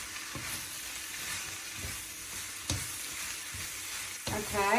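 Vegetable pasta with basil sizzles in a pan as a wooden spoon tosses it, soft crackling frying under a few scraping stirs, quiet and close.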